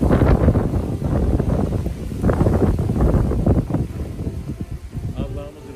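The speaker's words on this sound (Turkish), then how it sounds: "Güzel bir rüzgar geldi." Strong wind buffets the microphone outdoors, a loud continuous rumbling roar with gusty surges, while someone talks over it throughout.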